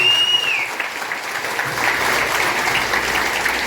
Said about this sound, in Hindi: जोरदार तालियां हो जाए दोस्तों, जोरदार तालियां।